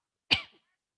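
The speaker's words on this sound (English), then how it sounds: "Now I'm coughing already." A single short, harsh cough, close and clear, followed by silence.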